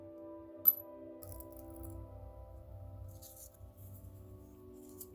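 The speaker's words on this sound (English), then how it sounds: "Throw some of these little beads in." Small beads drop into a glass spell bottle, one bright clink followed by faint light rattling in a quiet room.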